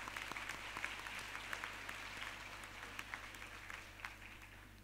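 Applause from a university convocation audience fills a large hall, a steady, dense wash of many hands clapping at moderate distance throughout, with no talk over it.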